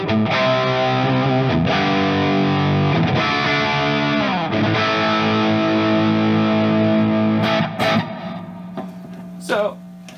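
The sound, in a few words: guitar through amplifier with reverb and delay pedals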